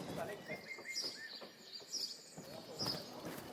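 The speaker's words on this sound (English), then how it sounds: "So this walkway generates energy that powers the bird songs in the day" Bird song plays from a speaker system powered by an energy-generating street walkway, with faint repeated chirps and tweets over a busy outdoor background of footsteps and murmuring.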